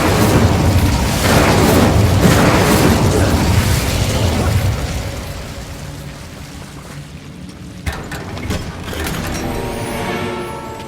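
Fiery spell blasts in Hogwarts Legacy, a loud, sustained roaring burst of flame and impact noise with rumbling low end, fading down midway before a sharp pop and renewed crackling wash.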